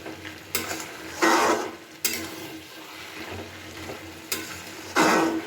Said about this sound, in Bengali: এবার খুব ভালো করে নাড়াচাড়া করে নিচ্ছি।